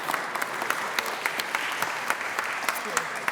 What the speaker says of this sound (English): He gets applause, he doesn't even have to speak.